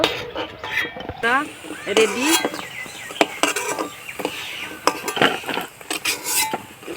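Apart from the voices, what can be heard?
Utensils clinking while lifting fried spinach-leaf pakoras out of the pan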